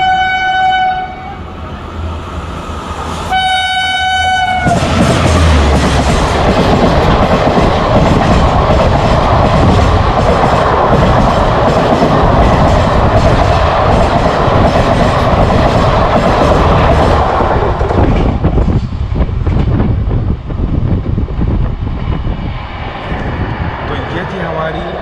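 The Bhuj–Mumbai Central AC Express overtakes at night, heard from a neighbouring train. A horn sounds early, then a loud, sustained rushing roar and rattle of passing coaches runs to the end, with a voice speaking over it.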